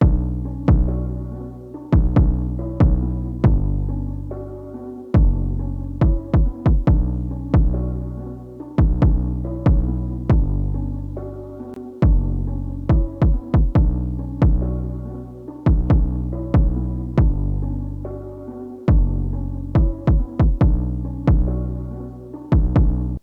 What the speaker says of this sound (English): So basically the sidechain compressor is ducking the start of the 808, which is usually kind of that kick transient, and it's allowing our kick to be heard over it.